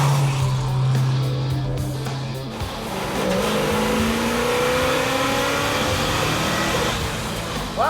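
A 1956 Chevrolet with a 265 V8 engine accelerates hard on the road, its engine roaring loud and close from inside the car, dipping briefly around a gear change and then pulling up again.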